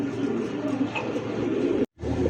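A pigeon coos in low, throaty, rolling tones close by, the sound continuous with a brief dropout near the end.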